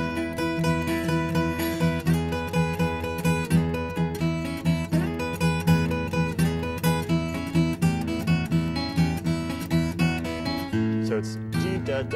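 Acoustic guitar playing a blues run that circles around two notes in a fingerpicked pattern; steady, close, moderately quiet, with no talk over it.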